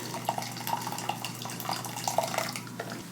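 Water runs steadily into a sous vide container for a meal prep cook, a continuous close splashing pour with small bright droplet accents and no talk.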